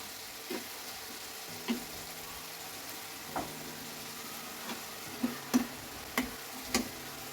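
Shrimp and fish fry in a pan with a low, steady sizzle, broken by scattered sharp taps and clicks from stirring, with no talking.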